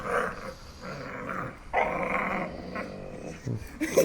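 An agitated dog growls and snaps while being held in a forced hug, low rumbling growls broken by sharp snaps, close and fairly loud with faint voices behind.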